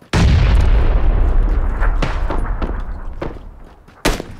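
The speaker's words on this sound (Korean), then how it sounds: "아우 나 쏜다." A loud, close gunshot booms in PUBG Battlegrounds on the Miramar map, its echo decaying over several seconds with a few fainter distant shots, then a second sharp shot near the end.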